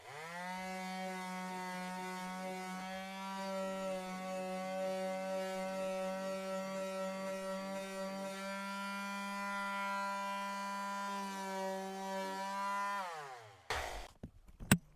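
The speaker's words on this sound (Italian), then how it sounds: "se io utilizzo una classica levigatrice orbitale, questa è a delta" A delta orbital sander sanding a rusty metal pipe runs with a steady, loud motor whine and rattling grind for several seconds, then winds down and stops, followed by a few clunks.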